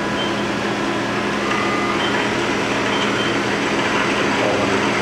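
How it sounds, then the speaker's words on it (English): A Mori Seiki SL-15MC CNC lathe runs its live milling tool on the turret, giving a loud, steady mechanical drone with a low hum and broadband whir that holds constant throughout, with no talking. "We're going to run the live tool now."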